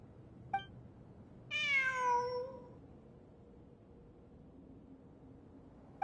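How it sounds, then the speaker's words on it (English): In the Genshin Impact video game, a cat lets out a single drawn-out, wavering meow against faint ambient hum, framed by two brief soft clicks. "It really is a cat."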